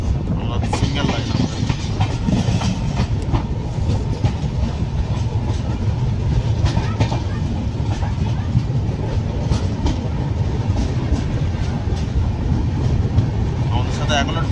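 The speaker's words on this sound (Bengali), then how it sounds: "আমাদের সাথে এখনো ডিজেল লোকো আছে" Inside the Bikaner-Kolkata Pratap Superfast express hauled by a diesel locomotive, a loud continuous rolling rumble with rhythmic wheel clatter runs throughout, with indistinct voices in the background.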